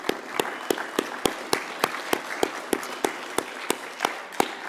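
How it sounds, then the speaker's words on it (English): A single person claps at a slow, steady pace, each sharp clap distinct over a faint room background, in place of an audience round of applause. "You guys deserve a round of applause."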